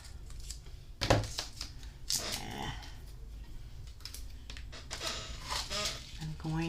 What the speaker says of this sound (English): I'm going to cut this in half